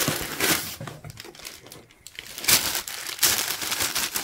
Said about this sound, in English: what I'll do is I will also unwrap the other one